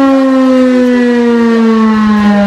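An old civil defense warning siren sounding a test in Ruma, a loud, sustained, steady wail that holds one pitch throughout with no voices.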